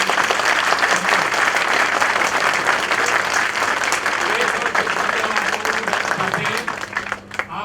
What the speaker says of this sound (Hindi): जोरदार तालियों से चेयरमैन साहब का।